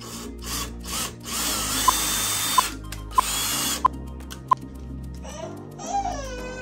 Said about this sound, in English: So we're drilling a 3/16 inch hole in the mark spot